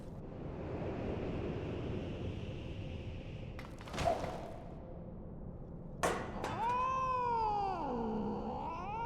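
A cat in Final Fantasy XIV lets out a drawn-out, wavering meow near the end, preceded by a couple of sharp bursts over a steady rushing, wave-like background wash.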